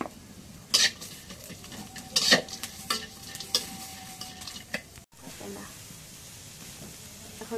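Green chilies and chopped onion frying in a pan give a steady sizzle, broken by sharp scraping stirs and clanks of a utensil against the pan, with a brief cough nearby.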